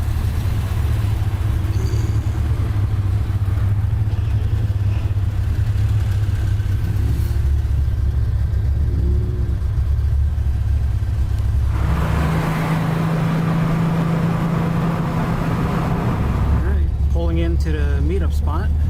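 Cars roll out together from a street cruise meetup, engines droning steadily close by with a swelling rev partway through, while people talk over the noise.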